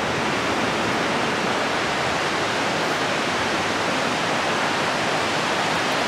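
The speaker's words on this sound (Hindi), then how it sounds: "ये देखो वो जा रही है नदी" The Parvati River rushes in a dense, continuous hiss of flowing water, loud and unbroken from start to finish.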